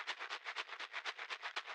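Low, Foley-style rattle shaker from an Afro House remix, filtered to sit dark, ticking in a steady run of about fourteen even, close hits with no other sound.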